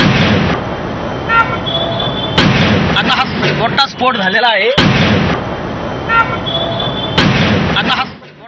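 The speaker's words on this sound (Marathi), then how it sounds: "आता हा मोठा स्फोट झालेला आहे" A large explosion strikes at an industrial fire at Dombivli MIDC. Loud, broad roaring blasts come back in several heavy waves, separated by brief quieter gaps with a whining, warbling tone.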